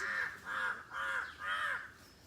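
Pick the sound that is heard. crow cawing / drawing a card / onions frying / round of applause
crow cawing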